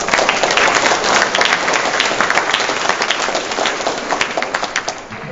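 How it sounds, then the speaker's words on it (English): A room of training attendees claps loudly for the organizers, producing dense, close applause that holds steady for several seconds before thinning out at the end. "give them a round of applause?"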